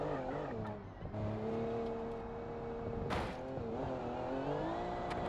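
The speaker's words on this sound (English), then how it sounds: "I guess braking here is a good idea." Simulated car braking in the driving game BeamNG, a tuned 1000 hp Toyota Supra with a 2JZ engine: a loud, steady engine drone with shifting pitch and a short noisy tire burst midway, with no talk.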